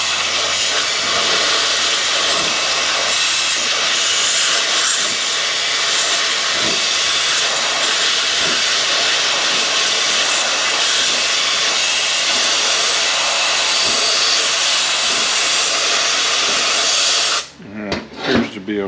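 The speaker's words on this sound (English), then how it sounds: "You can get your blowgun and blow right up in here where this weld is at." A compressed air blowgun blasts steadily into a 6L50E transmission case around a weld, a loud continuous hiss running without a break for about seventeen seconds before cutting off abruptly.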